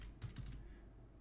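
Computer keyboard keys clatter in a quick burst of light taps, then pause before a final tap, close and moderately quiet over a low room hum.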